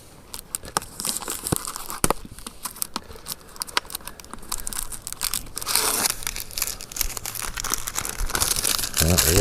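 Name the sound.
peeling plastic labels off 2-liter bottles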